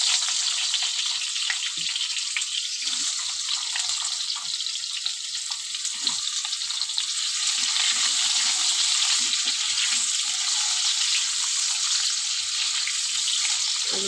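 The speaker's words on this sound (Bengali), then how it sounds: "এবার কেটে রাখা আলুগুলো দিয়ে দেবো" Cut potatoes go into hot oil in a pan with cumin seeds, made for a hilsa fish dish, and fry with a loud, steady, bright sizzle that crackles on throughout without a break.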